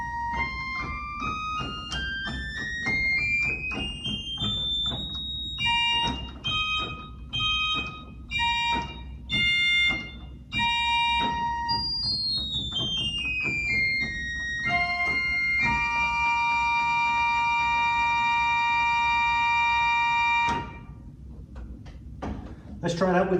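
A pipe organ sounds a bright, high 2-foot fifteenth stop, alone and then combined with an open stop. Sustained pitched notes rise in runs, with repeated chords and held tones, loud and close, ending in a cutoff.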